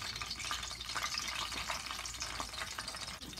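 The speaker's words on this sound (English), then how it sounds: "We're going to gently add the cornbread patties right into the hot oil." Cornbread patties made from hot water cornbread batter sizzle and crackle steadily in hot frying oil, a dense, continuous fry heard up close with no voices.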